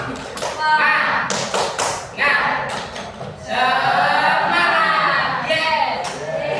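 A classroom of students performs a rhythmic spirit clap routine during a teaching lesson, sharp claps and taps in patterned groups mixed with voices chanting along.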